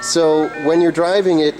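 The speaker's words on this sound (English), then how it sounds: "Excuse my phone going off." A phone ringtone plays a short repeating melodic phrase over a man's speech, fairly loud and close.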